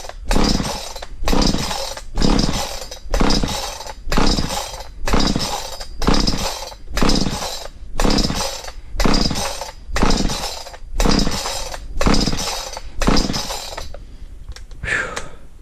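A Stark Chinese chainsaw is pulled over with a steady series of loud, rhythmic starter-cord cranks, each a harsh rasping burst, before the sound drops away near the end.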